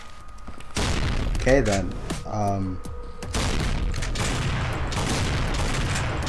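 Shotgun fire in a video game, a run of loud broadband blasts and crackling bursts, with someone briefly speaking over the shooting.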